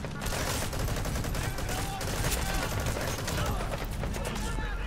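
Dense, continuous gunfire from a shooting sequence in the video game Metal Gear Solid V: The Phantom Pain, a steady loud clatter of rapid shots with overlapping bursts filling the whole stretch.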